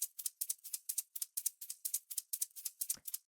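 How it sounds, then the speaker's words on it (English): A tech house shaker sample plays a steady run of crisp, bright, hissy pulses at an even sixteenth-note pace, close and alone, with a slight accent pattern and no voices. "So the next thing we have here is the shaker,"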